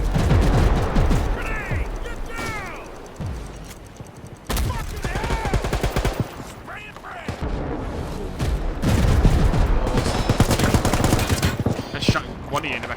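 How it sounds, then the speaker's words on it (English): Artillery and gunfire from the war game World War 3 rattle in dense volleys for over ten seconds, heavy booms and rapid shots layered together while players talk throughout. "The artillery fire incoming."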